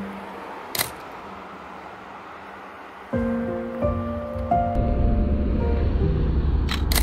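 Ocean waves wash onto a beach at Kamakura, Japan, a steady broadband surf that swells louder midway, with a faint low engine-like hum joining and no talking.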